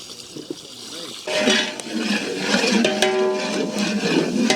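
Water pours into a vessel to soak rice for beef biryani, a sudden gushing splash that settles into a steady filling rush with a few light clinks, heard close by as someone speaks over it.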